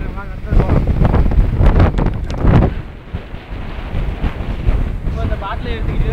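Strong wind gusts past palm trees in an outdoor survival setting, roaring loudly and continuously into the microphone with buffeting rumble and rustling, rising and falling throughout.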